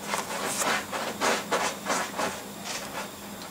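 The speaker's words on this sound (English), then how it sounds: "that is Snowy digging away to China in her cat truck." Repeated scratchy scraping bursts, roughly every half second, of a cat's paws raking through loose litter in a litter box, steady and fairly close with no talking.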